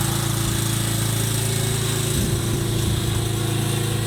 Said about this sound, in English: the lawnmower's coming back down the road again